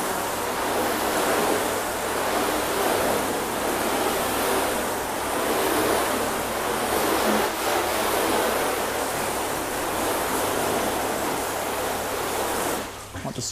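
A garden hose rinses a freshly washed car panel in a garage, giving a steady, loud rushing spray of water that runs unbroken for over twelve seconds before cutting off abruptly at the end.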